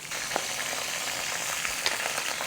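Curry leaves hit hot oil and ghee in a pan for tomato rice with prawns, giving a steady close sizzle and spatter with a few sharp crackles and pops.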